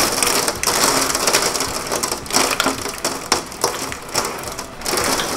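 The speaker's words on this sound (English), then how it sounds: "It's hailing so badly." Heavy hail hammering down in a sudden storm, a loud, dense, crunching roar of countless impacts that continues steadily with brief surges, and no voices.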